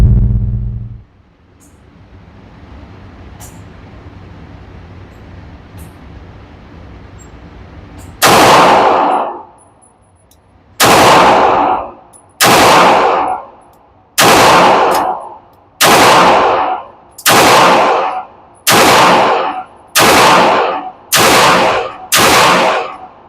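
Pistol shots ring out at an outdoor shooting range, a burst of ten loud, sharp reports spaced roughly a second apart, each followed by a short decaying echo, after a stretch of quiet background.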